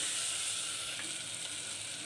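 Ginger garlic paste sautéing with onions, mint and coriander for a quail gravy gives a soft, even sizzle that stays at a low, steady level with no other sounds.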